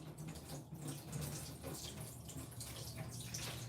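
Tap water runs steadily into a container while a burger bread recipe is prepared, a continuous fairly quiet rushing stream with no talk over it.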